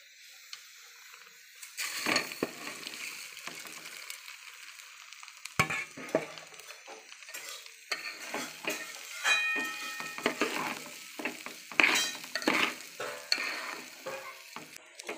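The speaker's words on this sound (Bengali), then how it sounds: "চালটা একটু নেড়ে নেব।" Uncooked rice stirred in hot oil in a pan for basanti pulao, a steady sizzle broken by repeated scraping, rattling stirs that come in bursts, with no talking.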